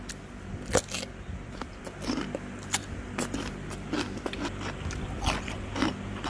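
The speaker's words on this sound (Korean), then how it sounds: "이 자체가 이 소리는 오이 씹는 소리입니다" Close, wet crunching as someone bites and chews unpeeled cucumber, with irregular crisp crackles over a steady low background hum.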